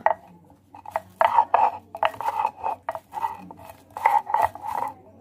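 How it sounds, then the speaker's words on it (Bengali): Roasted spices being ground by hand on a shil-nora grinding stone, a repeated rasping scrape in uneven strokes, close and fairly loud, with short pauses between rubs. "ভাজা মশলাগুলো এবার আমি শিলনোড়া দিয়ে বেটে নেব"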